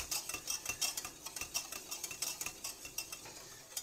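A spoon stirring thickening butterscotch pie filling in a pot on the stove, with steady rhythmic scraping and clinking strokes repeating throughout, close by and alone without talk.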